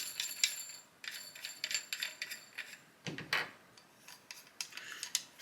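Metal nuts are worked off bath taps by hand, giving faint, close scraping, rubbing and small metallic clinks in an irregular patter, with a louder knock near the middle.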